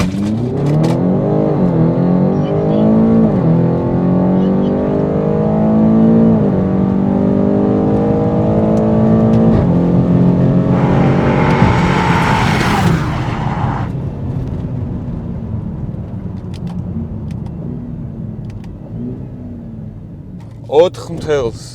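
A BMW X5M F85 launches hard from 0 to 100 km/h on a rough road, its engine climbing through rising gear sweeps with brief shift breaks, loud and close, while people talk over the roar before it settles.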